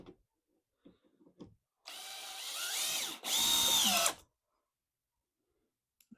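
A power drill drives screws into the wooden frame of a mini mobile cabin in two loud whirring bursts with a short pause between, close up, framed by faint knocks and quiet shuffling before and after.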